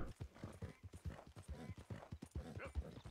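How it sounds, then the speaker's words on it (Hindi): Horse hooves galloping in Red Dead Redemption 2, a quick, steady clip-clop rhythm of repeated hoof strikes heard fairly close, with a voice talking quietly underneath. "चल मेरे घोड़े, टिक टिक टिक।"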